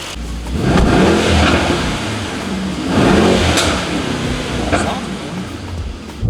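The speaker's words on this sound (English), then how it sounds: "taking the car for its preliminary drive" A Mercedes E63 S AMG car engine with a fault revs and accelerates in repeated surges, loud and close, with a rough mechanical rumble throughout.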